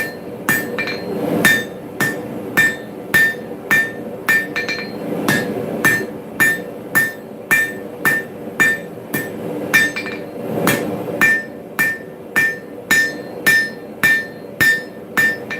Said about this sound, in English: Keep forging down that wing.